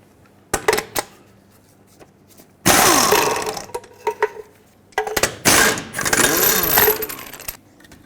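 Six lug nuts are loosened on a 1996-2002 Toyota 4Runner front wheel, heard as several loud, rattling bursts of a power tool spinning, separated by short pauses and quiet clanks.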